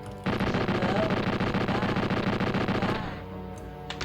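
Fully automatic rifle blasting in the Mayhem Mansion video game, a loud unbroken burst of rapid gunfire that runs for about three seconds before cutting off into a faint echo.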